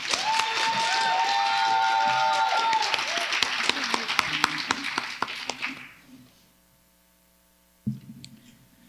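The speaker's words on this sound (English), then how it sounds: "One more round of applause." An audience at an Indigiqueer music and story event gives a hearty round of applause mixed with some cheering and a sustained whistle, then fades to near silence before a voice starts talking.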